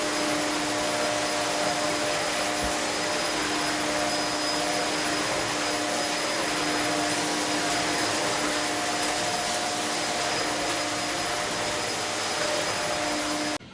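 A Hoover vacuum cleaner runs continuously while a house is being cleaned, a loud steady whine with a constant motor hum and no talk over it.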